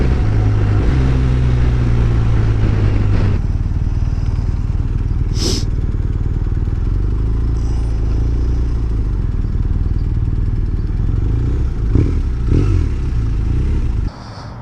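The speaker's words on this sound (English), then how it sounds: "I just pulled up here at Central Texas Harley, and I parked the bike right next to this guy." A Harley-Davidson motorcycle engine rumbles loudly and close as the bike rolls up and parks at a dealership in Central Texas, a steady low idle with a few clunks before the engine cuts off at the end.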